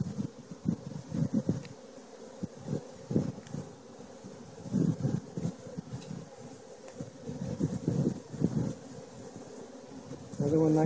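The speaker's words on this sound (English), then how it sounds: "Lots of worker bees." Honey bees buzz steadily in an open hive full of worker bees with freshly drawn-out comb, a continuous droning hum with fluctuating swells, fairly close and moderately loud, with no talking.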